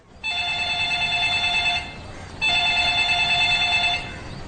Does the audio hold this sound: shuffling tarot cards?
no